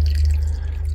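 A small amount of water is poured into a frying pan holding chicken wings, giving a brief close trickle over a low, steady hum.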